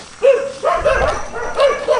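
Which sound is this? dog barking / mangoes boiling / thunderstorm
dog barking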